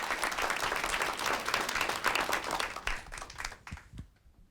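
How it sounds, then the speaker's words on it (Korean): Lecture audience applauding at the close of a televised Korean talk on dreams and vision, a dense steady clapping that holds loudly for several seconds before thinning into a few scattered claps and fading out. "큰 박수 보내주시기 바랍니다"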